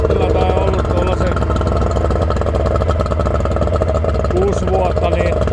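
A boat's outboard motor in gear runs with a steady low mechanical drone, close and continuous, while someone talks over it throughout.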